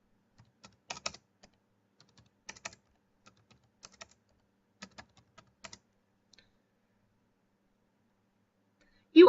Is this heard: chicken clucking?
no